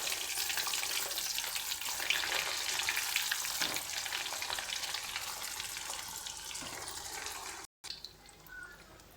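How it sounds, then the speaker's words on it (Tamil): Potato cutlets deep frying in hot oil, a steady dense sizzle and crackle that runs loud and unbroken almost throughout, with a brief gap near the end. "இப்போ இதை எடுத்து ஒன்று ஒன்றா போட்டு பொரிச்சு எடுத்துக்கலாம்"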